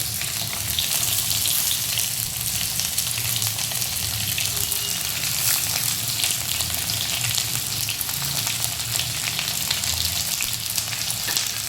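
Potatoes and chopped onions frying in a pan, a continuous crackling sizzle of hot oil, steady and close throughout with no voices or stirring breaks.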